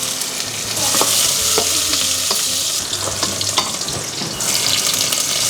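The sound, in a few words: mustard seeds, chillies and onion tempering in a pan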